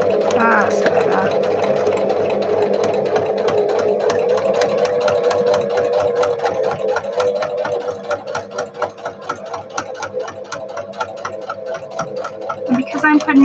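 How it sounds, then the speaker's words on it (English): Sewing machine stitching a marking line for a fabric pocket, a loud, steady, rapid mechanical chatter that runs nearly continuously, close up, easing briefly midway before resuming. "I'm putting a stitch in to mark where my pocket's going"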